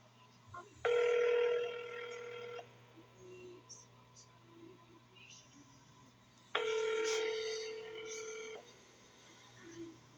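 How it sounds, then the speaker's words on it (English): Two long electronic telephone ring bursts, about two seconds each and several seconds apart, sounding through a phone line while a county jail call is being transferred, with a faint hum beneath. "Wait while I transfer your call."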